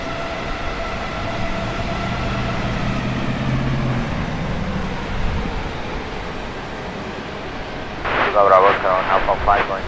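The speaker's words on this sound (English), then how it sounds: "Flight 167 from Phoenix is what this is. 737-800." Boeing 737-800 jet on flight 167 from Phoenix at Dallas Love Field, heard as a steady, fairly loud engine roar under continuous talk, with louder bursts of voices near the end.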